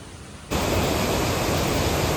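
A river tumbling as a small waterfall among trees in the Idukki hills: after a brief hush, a steady, dense rushing wash starts abruptly and holds loud and even.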